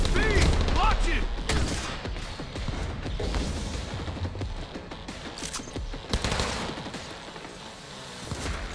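Cyberpunk 2077 combat with dense gunfire: rapid bursts of automatic shots and sharp single cracks, loud and close, continuing across the scene with brief shouted voices in between.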